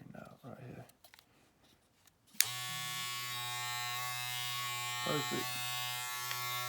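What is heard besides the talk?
modified Wahl and Andis Master hair clippers running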